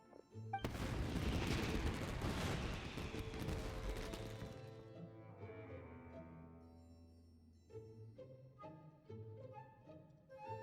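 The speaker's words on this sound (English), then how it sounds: "Yoimiya, this is turning into a bit of a fireworks display." Fireworks in Genshin Impact burst with a loud crackling boom and a long fizzling sparkle. Bright chiming musical tones ring out as the explosion fades.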